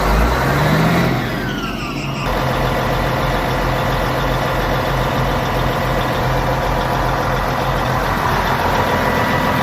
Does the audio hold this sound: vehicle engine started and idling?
yes